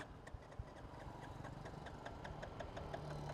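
A Royal Enfield motorcycle engine idles steadily after starting, a low rhythmic thump with faint ticking, heard alone at a moderate distance with no talk.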